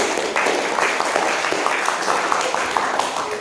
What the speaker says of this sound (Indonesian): Tepuk tangan untuk Mas Amin.